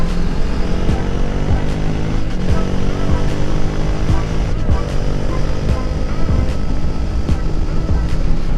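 A Triumph Speed 400 motorcycle riding on Indian roads, its engine droning steadily and loudly throughout with wind rush, no talking over it.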